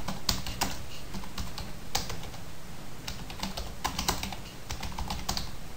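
Continuous rapid typing on a computer keyboard while entering PHP form code, with clicky keystrokes in quick irregular bursts and brief pauses, steady and close, with no speech.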